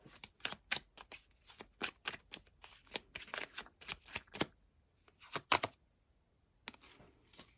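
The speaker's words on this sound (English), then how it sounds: "So let's pull more cards." Tarot cards being shuffled and pulled by hand, a quick series of crisp papery riffles and flicks in an uneven rhythm, close and fairly soft, with a brief pause before a few final snaps of cards.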